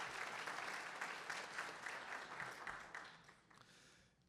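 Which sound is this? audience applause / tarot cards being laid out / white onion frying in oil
audience applause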